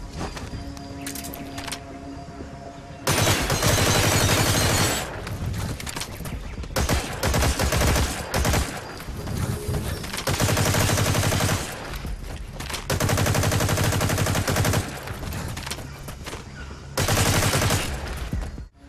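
Gunfire fills a Metal Gear Online 3 match, with dense bursts of automatic fire coming in loud waves between quieter stretches of game ambience and some footsteps.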